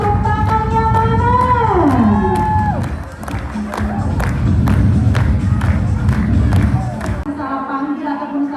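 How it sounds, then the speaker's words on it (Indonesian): Audience at a dolphin show at Safari Beach Batang cheering, whooping and clapping in a loud crowd roar, with children shouting and a host's amplified voice over music at the start. "Semangat, tepuk tangannya mana?"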